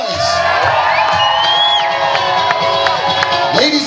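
A crowd at a wedding reception cheers, whoops and shouts together, loud and sustained, with high voices rising above the roar.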